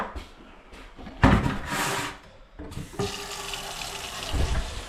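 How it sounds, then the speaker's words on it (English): Hot water runs from a tap into a sink with splashing and gushing that starts and stops, plus a few knocks and clatters nearby, close and fairly loud. "I will get hot water running for that so I don't freeze my hands off"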